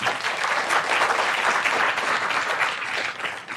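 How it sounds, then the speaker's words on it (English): Sustained audience applause at a table exercise session, dense and steady from start to finish with no speech over it, fading slightly at the very end. "a round of applause"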